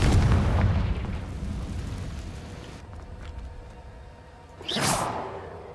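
A Confringo spell explodes in Hogwarts Legacy with a booming, rumbling blast up front that fades into a low, dull tail, then a sharp whooshing burst near the end, with no talk over it.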